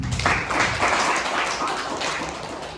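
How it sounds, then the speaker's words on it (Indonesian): Brief burst of audience applause at a talk about a coffee business, moderately loud and fairly even throughout the short stretch. "Tepuk tangan dulu dong teman-teman."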